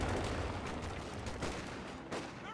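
Gunfire from a Panzer IV in Company of Heroes 2 rattles in quick, dense bursts, a continuous crackle of shots and impacts at moderate loudness with no talk over it.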